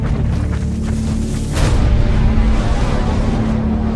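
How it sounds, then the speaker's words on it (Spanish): A deep, rumbling volcanic eruption swells from a low roar into a heavy, sustained boom, loud and close, with a broad thundering wash that keeps going. "La explosión comienza a gran profundidad en el subsuelo."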